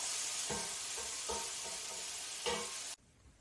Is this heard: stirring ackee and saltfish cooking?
yes